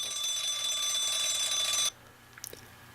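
A steady electronic alarm tone from an iPhone alarm app rings for about two seconds and then cuts off abruptly, leaving quiet with a few faint clicks.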